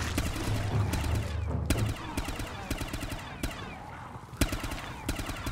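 An AK assault rifle fires in a Black Ops custom zombies game, delivering sharp, close shots in quick irregular bursts and runs of rapid fire, with a low rumble underneath at first.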